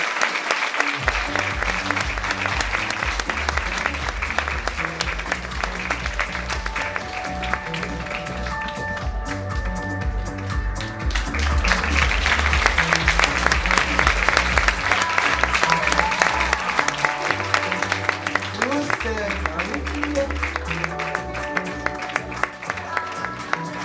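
Audience clapping for a model named Corinne on the runway at a charity fashion show against cancer, with loud applause running continuously under upbeat music and occasional voices.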